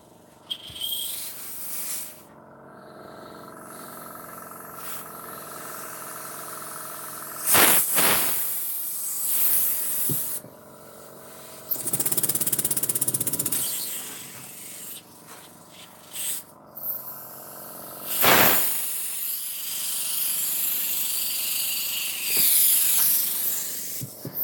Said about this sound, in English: But that's a fairly nice little engine.